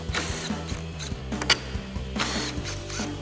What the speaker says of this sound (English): So we've got our 10mm socket on our impact. We'll pop these off.